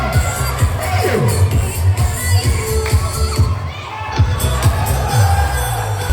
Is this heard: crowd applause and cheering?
yes